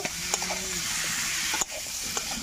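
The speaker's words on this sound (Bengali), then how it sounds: "ঢাকাটা খুলে আমি দেখে নেব, একটু নাড়াচাড়া করে নেব" Potatoes stirred into a snakehead fish curry in a pan, a steady sizzling fry with soft scraping stirs and a few small clinks, close and alone without talk.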